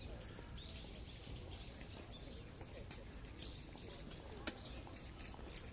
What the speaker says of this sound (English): Those birds, they're everywhere here in Japan, especially Kanto area.